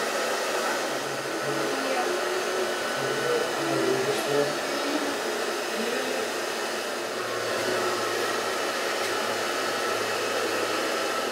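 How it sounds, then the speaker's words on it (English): A hairdryer runs steadily throughout, a constant close, even whoosh with no pauses, during a children's art lesson at home. "you have to go and get the hairdryer again and ask her to plug it in again"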